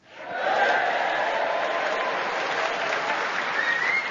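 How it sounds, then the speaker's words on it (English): A theatre audience at the refurbished King's Theatre in Southsea, Portsmouth, bursts into applause that swells within half a second into sustained, dense clapping. The applause is loud, continuous and stays even until the end. "we have an enthusiastic Hampshire audience in front of us to cheer us on our way"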